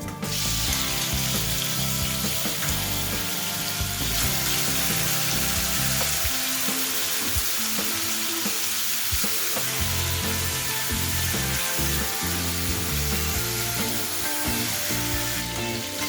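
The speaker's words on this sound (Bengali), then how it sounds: "রসুন হালকা লাল করে ভেজে নেওয়া হয়ে গেলে রসুনের মধ্যে আমি চিংড়িগুলোকে দিয়ে ভেজে নেব" Shrimp frying in lightly browned garlic in a pan, a steady close sizzle running throughout with occasional stirring clicks, loud and continuous with no voices.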